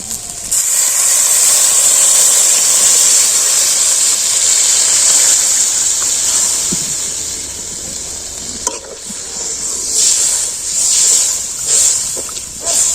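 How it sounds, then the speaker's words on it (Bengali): Water poured into a pan of Medinipur-style rui fish tel jhal with potatoes, then left to simmer, giving a loud steady sizzling hiss that gradually eases, with a few stirring clinks near the end. "এবার আমি জল ঢেলে এটা সেদ্ধ করতে দিয়ে দেবো"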